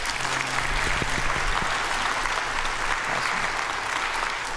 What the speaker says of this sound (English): Would you guys give a round of applause for our seniors?